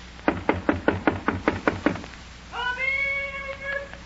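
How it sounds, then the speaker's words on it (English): Eight evenly spaced knocks on a door ring out sharp and fairly loud in an old-time radio drama, followed by a brief wavering, whining tone. "Knock on the door."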